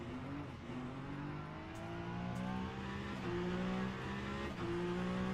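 A Peugeot race car engine in a racing video game at Monza, a steady mid-level drone with shifting engine tones and slight revving, no voices.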